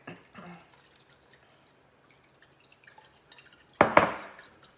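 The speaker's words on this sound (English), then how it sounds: "it's filtering slower because the pulp of the juice is in here" Watermelon and celery juice with pulp dripping slowly through a filter, with scattered soft drips over quiet, a couple of small liquid splashes at the start, and a louder pouring splash near the end.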